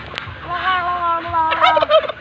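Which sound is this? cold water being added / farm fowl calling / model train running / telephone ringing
farm fowl calling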